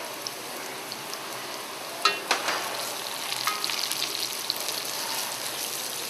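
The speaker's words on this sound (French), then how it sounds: "on fait juste revenir la garniture avec les épices" Garnish and spices for vacoa achards sauté in oil with a soft continuous sizzle, broken by a few utensil clinks and stirring scrapes, and no voices.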